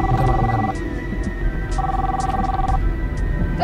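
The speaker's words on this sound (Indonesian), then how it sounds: "Itu ada telepon kenapa nggak diangkat," A telephone rings in two steady electronic bursts separated by a pause, moderately loud in an indoor room, with faint talk and background noise underneath.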